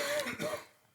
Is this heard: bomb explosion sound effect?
no